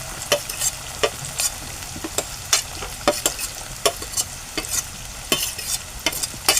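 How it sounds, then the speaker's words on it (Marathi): Chopped onion, green chillies and tomato fry in hot tempering oil while being stirred, a steady close sizzle broken by frequent scraping clicks of a spoon against the pan. "आता कांदा आपण जरासा गुलाबी रंगावर करून घेऊ"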